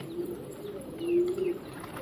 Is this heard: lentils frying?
no